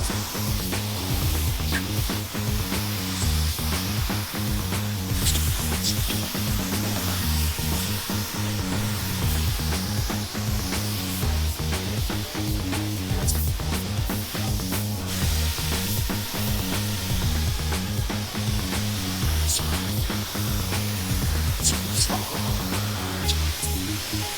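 A paint spray gun hisses continuously while laying flat clear coat onto an offroad bread van, a steady close-up spray with faint rhythmic fluttering underneath and no pauses.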